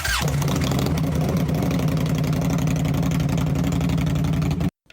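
A steady, rumbling motorcycle engine runs at a constant idle-like pace with a strong low throb, loud and close, then cuts off abruptly at the end.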